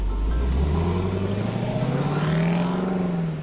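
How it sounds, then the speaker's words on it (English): A 2021 Lexus LC 500 convertible's engine sounds close and loud, a deep throaty V8-style note that rises and swells as the car accelerates, with no speech over it. "Also, the engine note is like a Wagner symphony."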